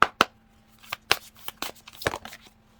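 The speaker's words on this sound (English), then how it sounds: "I just felt like it needed to be shuffled 3 times." Tarot cards are shuffled by hand in a series of sharp riffling snaps and softer slides, close and fairly quiet, in an otherwise quiet room.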